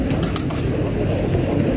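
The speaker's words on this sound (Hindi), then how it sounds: "तो ये कबूतर है" A fighting pigeon coos close by, soft low murmuring over steady loud outdoor background noise, with no talking.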